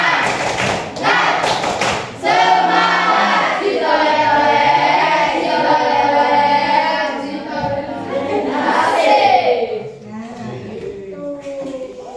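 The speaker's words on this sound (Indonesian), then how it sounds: "Coba lalu ditepuk lagi biar semangat." Classroom students give a short burst of sharp, rhythmic spirit claps, and then voices take over, singing together loudly and close by.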